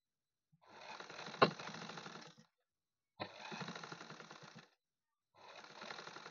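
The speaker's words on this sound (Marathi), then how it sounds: "आता ह्या पण साईडनं मी शिलाई करून घेत आहे." Sewing machine stitching a front piece to a blouse cup in steady bursts, three runs of whirring stitching separated by short pauses, close and moderately loud with no talk.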